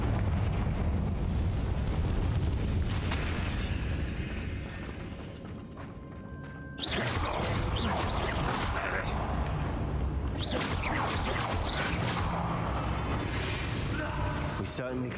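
A Confringo spell goes off inside a room in Hogwarts Legacy: loud, dense blasts of crackling fire and debris fill the space, pausing briefly before another burst, layered with game music and effects.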